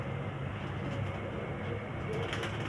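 A Ferozpuri Kasuri pigeon of chhatanki bloodline coos low and steadily, blended into a dense wash of background noise that fills the whole stretch.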